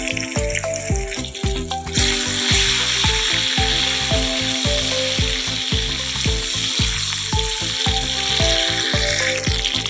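Diced onions fry in a pan for a prawn and potato curry, giving a loud, constant sizzle with rhythmic scraping and clinking from the utensil throughout.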